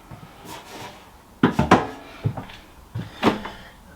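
Ninja Flexdrawer and Cosori Dual Blaze twin air fryer drawers being handled, giving a few close, sharp plastic clunks and knocks in uneven bursts against a quiet room.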